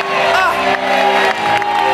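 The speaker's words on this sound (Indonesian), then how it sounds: "tepuk tangan juga yuk untuk tim Nas" Studio audience on the Indonesian game show Family 100 cheering and whooping with applause in a steady, loud crowd roar that carries through the whole moment, with a host's voice over it.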